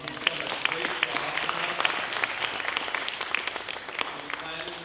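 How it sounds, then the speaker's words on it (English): An audience at an anniversary celebration gives a round of applause, steady, moderately quiet clapping throughout with a speaker's voice over it. "Let's give a round of applause for Scott Liskey."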